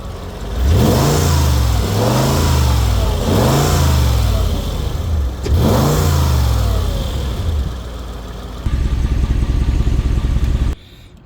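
A 2007 Mercedes G55 AMG engine revving hard several times in rising and falling sweeps, loud and close, then settling into a steady, higher fast idle before cutting off.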